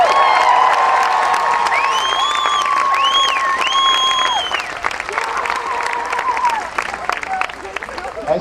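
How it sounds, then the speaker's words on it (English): Rally crowd at a rally applauding and cheering loudly, with whoops and high shouted voices rising over continuous clapping, easing somewhat in the second half. "So give yourselves a big round of applause."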